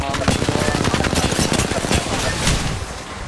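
Rapid gunfire in a ranked video game match, dense overlapping shots with a shotgun among them, loud and close, with a player's voice talking over the shooting.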